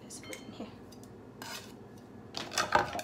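Vegetables and herbs for Lao mango salad are being cut, with irregular soft scrapes and knocks from a knife close by. A brighter clatter of utensils comes near the end, and there is no talk.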